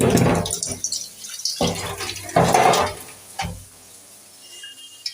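Water for cooking runs and splashes from a tap in several close, uneven gushes, then trails off into near quiet.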